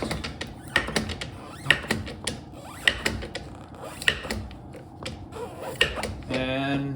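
Wheel dolly ratcheting up under a Corvette wheel, a series of sharp clicking, clanking pumps spaced roughly a second apart, close and fairly loud, with a short rattling mechanical run near the end.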